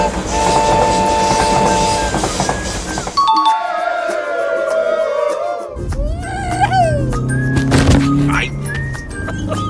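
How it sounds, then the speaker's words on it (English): A train rumbles past with rail clatter, then a chiming bell rings out over mixed background noise and occasional voices. "I won't move until the train passes."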